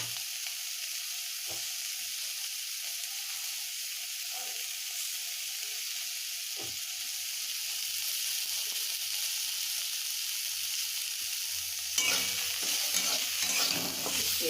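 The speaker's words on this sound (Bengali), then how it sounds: "এইভাবে খুন্তিতে নাড়তে থাকবেন।" A spatula stirs chowmein frying in a pan with onion and chopped chilli, giving a continuous close sizzle with scraping strokes at irregular intervals. The frying grows louder and busier near the end.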